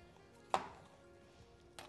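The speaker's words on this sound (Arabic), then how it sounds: "ومن ثم بنقطع الفليفلة إلى شرحات كمان مستديرة بهالشكل" A knife slicing a bell pepper into rounds on a cutting board, two sharp isolated chops against a quiet background.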